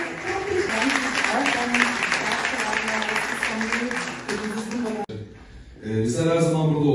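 Applause from a theatre festival audience fills most of the clip, then cuts out abruptly before music or voices return near the end.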